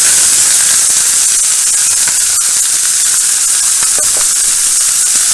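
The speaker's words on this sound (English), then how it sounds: "we're going to start with some diced onion right there" Diced onion sizzles loudly in a hot pan, a constant bright hiss and crackle with faint clicks running unbroken from start to finish.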